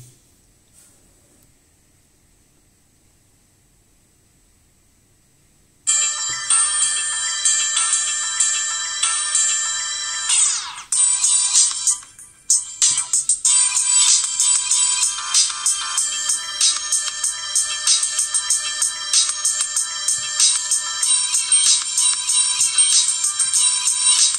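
Ringtone on a LEAGOO M9 smartphone starts after a few seconds of near silence, a bright, shrill electronic melody that plays loud and continuous with a brief break partway through, alone with no talk.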